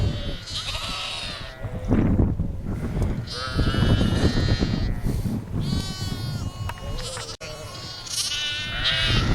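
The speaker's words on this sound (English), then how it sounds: "Just a fair few lambs there, look." Young lambs, only two to three weeks old, bleating in a field in Teesdale, several high wavering cries overlapping near and loud over a steady outdoor background with some talk.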